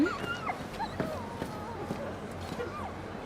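Torgal the dog whimpering in Final Fantasy XVI, soft whiny yelps and whines in a game scene, with voices and background sound mixed in.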